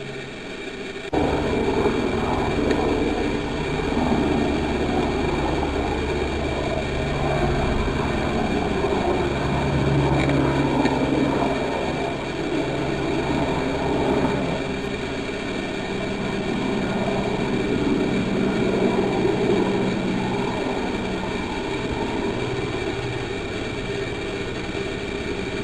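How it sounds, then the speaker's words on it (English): Helicopter flying over a wildfire near Monsanto, Castelo Branco: a steady, loud engine drone with rotor rumble that holds for about twenty-five seconds with little change and no talk over it. "Here comes another helicopter."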